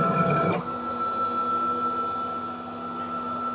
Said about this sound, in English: Now you push cycle start, the spindle will start, and then it'll set off carrying on the job.